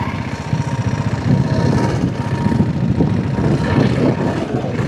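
A diesel-engine motorcycle runs steadily close by, a low throbbing engine drone with a slightly uneven pulse that holds for about five seconds with no voices.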